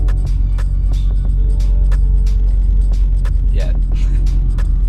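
An Audi RS3 driving on the road, giving a steady low engine drone and road rumble from inside the car, with people talking over it and occasional clicks.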